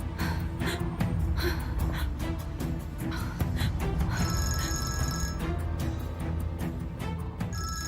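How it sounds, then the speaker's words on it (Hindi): A telephone rings with a steady, repeating electronic tone over a busy background of music and noise. "दीदी, मेराल का फोन है।"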